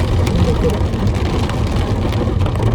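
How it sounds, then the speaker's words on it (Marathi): Heavy rain pours down in a loud, constant roar with dense patter, a rumbling low undertone beneath it, and no clear speech. "आता खूप जोरात पाऊस आलेला आहे"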